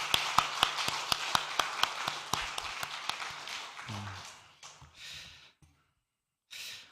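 Rhythmic hand clapping from a church congregation at a Sunday evening service, steady and evenly paced, fading out into brief rustles and a short pause.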